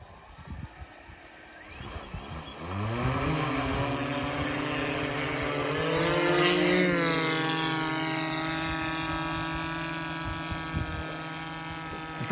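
Agricultural drone carrying an Altum sensor flies over a field, its rotors holding a steady buzzing hum with rising and falling pitch as it passes, loud and close, with no voices.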